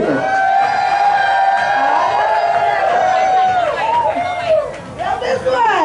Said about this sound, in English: Let's round of applause.